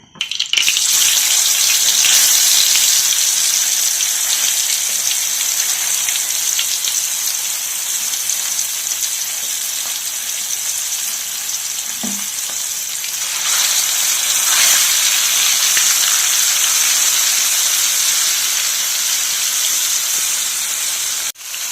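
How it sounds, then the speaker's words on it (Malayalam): Steady, loud hiss and crackle of fish frying in hot oil on a gas flame, continuous throughout with slight swells and no talking. "ഇവിടെയാണ് നമ്മൾ മീൻ ഫ്രൈ ചെയ്യാൻ വേണ്ടി വന്നത്"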